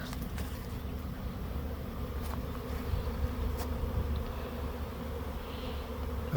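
Close, unbroken droning of a fresh honey bee swarm settled into empty hive equipment in a bee yard, with a few faint clicks and knocks over the thick buzz.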